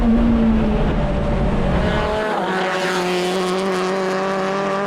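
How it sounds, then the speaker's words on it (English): Race car engines roar close by, a high revving whine shifting pitch, with tires scrubbing and squealing under load as the cars corner and a right front tire locks up, at a Portland race. "Tony Delane still locking up that right front as he goes around"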